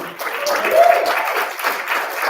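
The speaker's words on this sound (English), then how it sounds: "Clap for your judges one more time." Audience clapping for the judges at a poetry slam in Knoxville, a short burst of applause from the crowd with a voice briefly audible over it.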